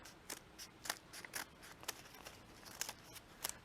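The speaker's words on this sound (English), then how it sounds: "take my scissors, it's not strict origami here, and I make one complete straight cut" Scissors snipping through folded paper, a quick run of crisp, close blade snips at an uneven rhythm, quiet and alone without any talk.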